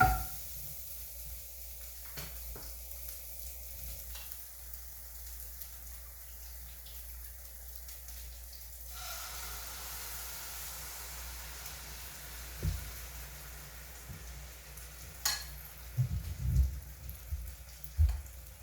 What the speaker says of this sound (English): The chorizo, I'm going to add the eggs to it.